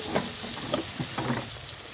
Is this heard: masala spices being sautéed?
yes